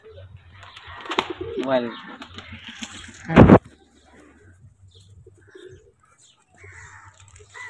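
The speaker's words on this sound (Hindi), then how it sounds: "तो इसमें आ चुका है हमारा उड़ान का कबूतर।" A pigeon coos softly near a quiet voice, followed by a sharp thump, then faint coos and light rustling fade into near silence.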